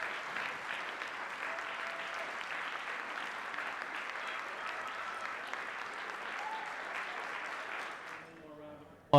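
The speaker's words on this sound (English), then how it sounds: "Applause for the choruses." Audience applause for junior high choruses at a school winter concert, steady, moderately loud clapping from a seated crowd that fades out near the end before a voice starts speaking.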